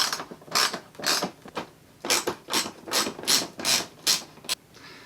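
A ratchet socket wrench turning a T27 Torx screw on a motorcycle fairing, giving about a dozen quick, close clicking bursts in an uneven rhythm, loud and with no talk.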